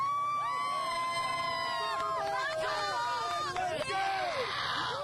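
Colts fans cheer and shout together downtown, a lively crowd of overlapping voices and whoops, with someone speaking over the noise.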